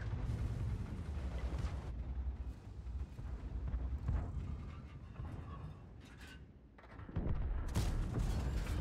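Heavy Japanese tier-5 O-I Experimental tank firing its cannon in a video game, a dense rumbling blast with explosive booms and a loud roar that dips midway before a strong second burst.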